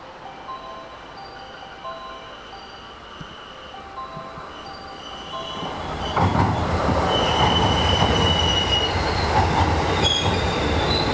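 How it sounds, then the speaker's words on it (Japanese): A JR West Sagano Line train rolls into Hozukyo Station in evening rush hour, quiet at first and then growing louder from the middle on, with wheels squealing and a rumbling roar as it reaches the platform. "2番乗り場に電車が参ります"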